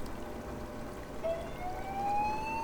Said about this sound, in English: This is a noise that you would hear at Kekabeka Generating Station, telling you to get out of the way